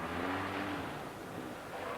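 Front-wheel drive rally car working its way gingerly around a slippery artificial skid pan, the engine droning steadily and close at a moderate, even pitch with no voices.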